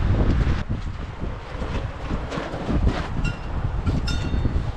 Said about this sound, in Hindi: बहुत तेज़ हवा चल रही है यहाँ